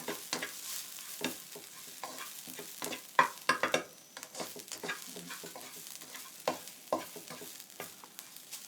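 Mushrooms stir-fried without oil in a pan for a basil stir-fry, giving close, dry scraping and stirring noises with light sizzling in irregular bursts.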